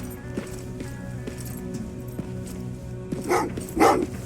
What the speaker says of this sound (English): Oh, what's with the dogs?